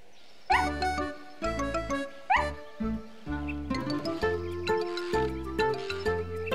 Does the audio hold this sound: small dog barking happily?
yes